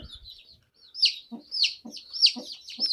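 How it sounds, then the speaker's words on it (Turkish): A grey mother hen clucks close by in a quick run of short, sharp calls, with a few high-pitched notes mixed in and a brief low thump at the start. "Bunların annesi işte o. Gri olan tavuk."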